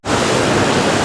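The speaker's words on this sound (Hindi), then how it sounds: "ये है वो वाटरफॉल जो मैं कह रहा था कि रास्ते में आता है।" A roadside waterfall on the drive toward Coorg roars as a dense, even wall of rushing water, loud and close, starting abruptly and holding steady without any speech.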